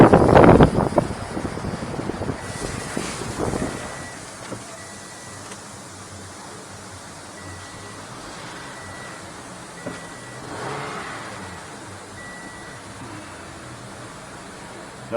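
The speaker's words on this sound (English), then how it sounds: "I feel safe enough to start it up" A Toyota Camry 2.5 litre four-cylinder engine, fresh from a water pump replacement, cranks and fires with a loud burst, then settles into a steady, low idle hum heard close by.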